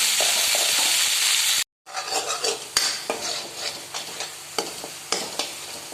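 Garlic onion paste frying in a pan, a loud steady sizzle that cuts out briefly, then returns as scraping stirs with spoon clinks and rhythmic pulses as the paste is worked around the pan.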